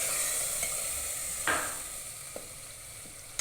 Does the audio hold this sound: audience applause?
no